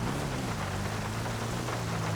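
Steady rain in the video game GTA 5 during an offroad drive with a massive vehicle, a continuous dense hiss of falling rain with a low engine-like rumble underneath, even and unbroken throughout.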